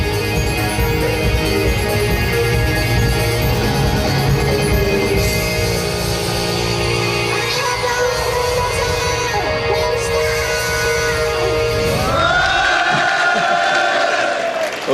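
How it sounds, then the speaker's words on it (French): Loud, dense crowd of concert spectators at a Japan Expo show cheering, shouting and clapping continuously as the band leaves the stage, with music tones running underneath and the roar holding steady throughout. "les membres du groupe sont partis sur de forts applaudissements et des cris des spectateurs qui en voulaient toujours plus"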